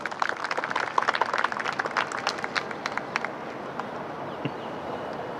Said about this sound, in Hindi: एक बार तालियां मार के उनका स्वागत करें।